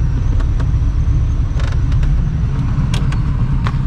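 A steady engine-bay whir and low rumble of a 1972 Chevy Camaro Z28's cooling fan running, constant and close, with a few faint clicks over the drone.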